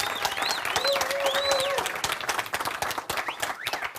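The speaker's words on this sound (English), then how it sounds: "Give him a round of applause, folks." Applause from a hypnotherapy business seminar audience, a steady patter of clapping with a crowd murmur and a voice talking over it.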